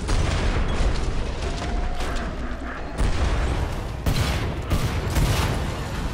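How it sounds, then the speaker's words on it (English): Grenades burst one after another in the co-op zombie shooter Killing Floor 2, a dense, loud barrage of booming explosions and gunfire with heavy low rumble, sharper blasts landing near 3, 4 and 5 seconds. "there's so many grenades going off"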